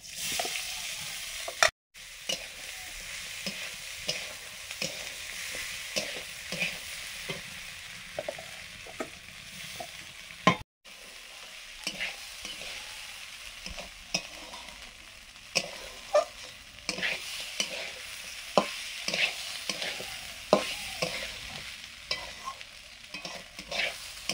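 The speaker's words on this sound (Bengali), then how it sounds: "এবারে দিয়ে দিচ্ছি চাল, মাখানো গোবিন্দভোগ চালটা।" Soaked gobindobhog rice fries in a pan, giving a continuous close sizzle broken by frequent rhythmic scrapes and stirs of a spatula against the metal.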